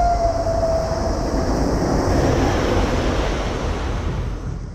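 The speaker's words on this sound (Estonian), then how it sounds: "Rong, aga mitte minu oma." A train passes nearby on the route toward Aegviidu, Estonia, in a loud, steady rumbling roar with a brief high squeal at the start, slowly fading toward the end.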